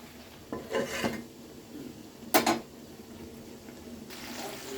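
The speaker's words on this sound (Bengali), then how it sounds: "ভালো করে বেগুনটাও আমি কষে নিচ্ছি আলুর সাথে মশলা দিয়ে" Eggplant and potatoes being stir-fried with spices in a pan for an aloo-begun hilsa curry, with a few short bursts of scraping, stirring and clattering against the pan over a faint sizzle.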